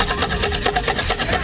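A hand saw cuts through wood while a kite is being built, giving steady rhythmic rasping strokes about five times a second, close and clear with no talk.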